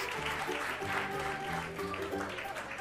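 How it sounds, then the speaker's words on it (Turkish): Applause in a children's educational cartoon about colours and play dough, a steady stream of clapping heard softly beneath a bouncy music track. "Hepinize kocaman bir alkış."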